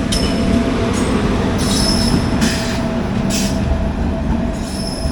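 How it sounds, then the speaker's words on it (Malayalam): An express train rumbles steadily past close by on the opposite line at a railway station, wheels squealing intermittently over a continuous rolling roar. "ഇപ്പോൾ ഓപ്പോസിറ്റ് ലൈനിൽ ട്രെയിൻ വരുന്നുണ്ട്"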